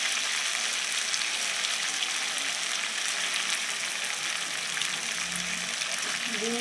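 Eggs fry and get stirred into a spiced masala, producing a dense, even sizzle that holds steady throughout with faint scraping near the end.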